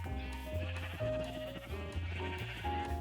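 Repeated Minecraft sheep bleats layered over one another, steady and fairly close, with a continuous busy bed of background sound beneath them.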